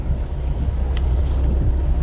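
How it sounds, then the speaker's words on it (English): Wind blows across a salmon trolling boat out on Lake Superior in fall, buffeting the microphone with a steady, loud low roar that runs through the whole moment without any talk. "Got it a little bit windy out here."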